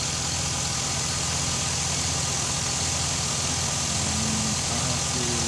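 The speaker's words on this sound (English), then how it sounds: "Okay, here's the vehicle running." A Chevy SSR idles with a new cooling fan fitted, giving a steady low engine rumble with a faint mechanical whir, close and continuous with no talking.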